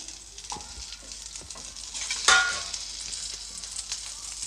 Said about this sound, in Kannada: ಬೆಂಡೆಕಾಯಿನ ಹುರ್ಕೊಳ್ಳೋದಕ್ಕೆ ನಾನಿಲ್ಲಿ ಒಂದು ಟೇಬಲ್ ಸ್ಪೂನಷ್ಟು ಎಣ್ಣೆನ ಹಾಕ್ಕೊಳ್ತಾ ಇದ್ದೀನಿ